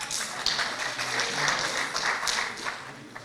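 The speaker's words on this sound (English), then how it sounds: "Good news, clap for yourself." Workshop attendees at an international law conference clapping, a sustained crowd applause with uneven bursts and swells, moderately loud and continuous across the whole stretch.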